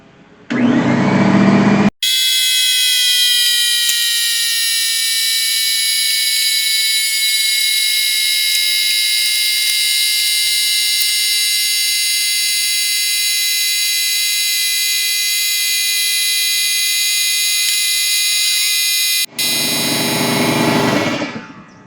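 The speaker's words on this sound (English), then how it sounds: "Turn the compressor on." An air compressor used for truck repair starts abruptly and runs with a loud, steady, high tonal whine for about seventeen seconds, then cuts off sharply, with rougher mechanical noise just before and after.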